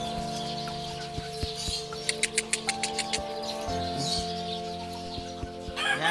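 Chickens, including a hen, clucking in a short run of quick, sharp calls near the middle, over a steady low hum and background noise, with no speech.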